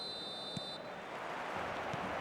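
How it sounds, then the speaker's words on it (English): A referee's whistle starts a match in the eFootball video game: one steady, high-pitched blast of under a second over a dense wash of stadium crowd noise. "There's the whistle, and here we go."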